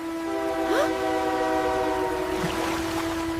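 A train sounds its horn in a steady, sustained multi-tone blast over the low rumble of the train, loud and close throughout, with faint voices briefly audible beneath.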